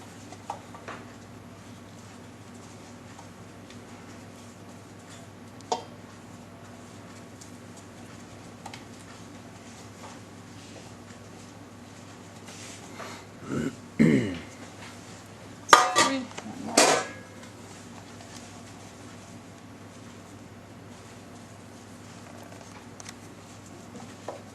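Metal bread pans being greased for sourdough loaves stay mostly quiet, then knock and clatter together in a short cluster of clanks and scrapes nearby.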